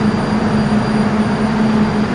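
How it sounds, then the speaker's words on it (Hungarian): An old Polish suburban commuter train, nearly 100 years old, rumbles steadily at a station with a constant droning hum and a sustained low tone throughout, loud and near, with no voices. "Lengyel hév, majdnem 100 éves."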